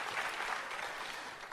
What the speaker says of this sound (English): another round of applause, please, for Archana